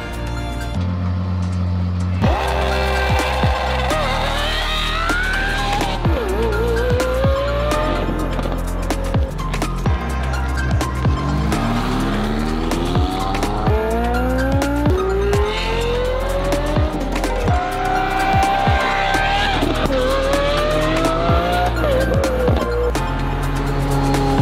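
Mitsubishi Colt driven hard on the Arlanda Test Track, its engine revving up and down through gears with repeated tire squeals, loud and close throughout.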